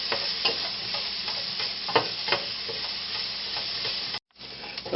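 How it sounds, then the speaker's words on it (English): Chopped onion with a pinch of kosher salt sizzles steadily in a hot pan, broken by a few scraping stirs and a brief silent gap near the end before the frying hiss returns. "I'm going to start cooking this onion"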